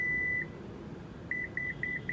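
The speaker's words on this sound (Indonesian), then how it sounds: "save dia dengan menekan tombol sampai dia bunyi bip-bip 2 kali" Electronic beeps from the tailgate of a black Toyota Fortuner VRZ 2.8 GR Sport 4x4 diesel as its opening height is saved: one longer tone, then a pause and a quick run of short, clear beeps, close by.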